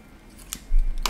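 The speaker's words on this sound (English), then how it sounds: "So I'm going to cut out my rain and my hail." Two quick snips of scissors cutting through paper, crisp and close, separated by a pause with faint room noise and a low thump between them.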